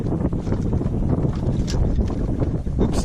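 Boat motor on the California Delta runs as a continuous close rumble while fishing among wood pylons and grass, mixed with gusty wind noise on the microphone and no talk.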